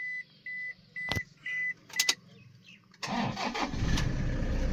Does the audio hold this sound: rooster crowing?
no